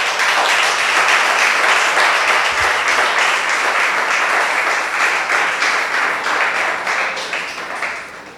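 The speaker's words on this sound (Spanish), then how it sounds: "¿Cuánto le da un fuerte aplauso al Señor?" A church congregation giving loud, sustained applause during a Spanish-language service, dense rapid clapping from many hands that stays strong throughout and tapers slightly toward the end.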